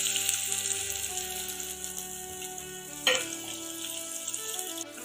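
Chopped onions and curry leaves frying in about one and a half spoons of oil in a pot over a high flame, a steady close sizzle with a brief louder crackle partway through and no talk.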